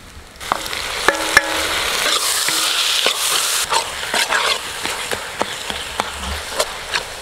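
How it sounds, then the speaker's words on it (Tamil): Tomatoes frying in a pan for a green papaya curry give a loud, close sizzle, with sharp clinks and scrapes of a spoon stirring throughout and no speech. "தக்காளி சேர்த்துக்கலாங்க."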